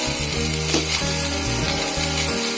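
Potatoes, corn and mixed vegetables frying with spice powders in a pan for an Odia ghanta tarkari hiss in a continuous loud sizzle, with steady musical tones playing underneath.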